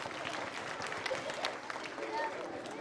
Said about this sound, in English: Can you give another round of applause to your great music teachers in the city school district?